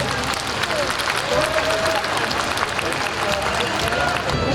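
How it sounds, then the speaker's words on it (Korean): A crowd at a disability organizations' festival opening ceremony claps and cheers for award winners, dense, loud, sustained applause filling the space with some voices mixed in. "수상하신 모든 분들께 축하의 함성과 박수 보내주십니다."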